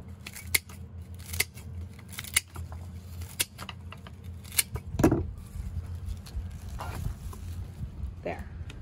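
Scissors snip through flower stems while trimming a bouquet in a container, a string of sharp, close cuts spaced irregularly, with a few handling rustles between them.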